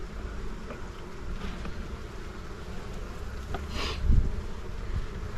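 Honey bees from a weak hive buzz in a steady, close drone, with a brief louder swell as one passes near; no voices.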